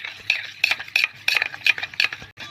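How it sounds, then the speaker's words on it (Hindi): A spoon stirs sugar, honey and ghee together in a bowl, giving a brisk run of repeated metallic clinks and scrapes against the vessel, close and fairly loud with no talk. "अब इसको हम अच्छे से मिक्स कर लेंगे।"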